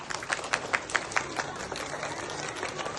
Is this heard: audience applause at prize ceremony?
yes